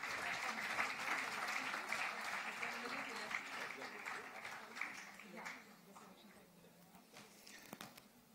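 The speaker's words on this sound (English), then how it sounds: "Big round of applause for Sampath Meena" Sustained applause from an audience at a women's awards ceremony, the Devi Awards, in honour of Sampath Meena, dense and steady at first, then thinning and fading, with talk underneath.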